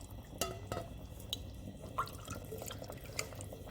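Stock (yakhni) poured into a pan of Szechuan chicken, a soft liquid trickle and splashing with a few brief drips and clinks, fairly quiet and close, with no talking.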